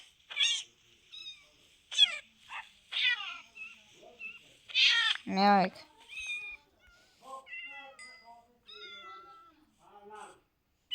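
Several cats meow repeatedly in short, high, wavering calls, one loud drawn-out yowl in the middle, with a person speaking softly among them.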